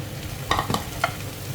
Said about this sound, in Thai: เอาไปผัดด้วยกันเลย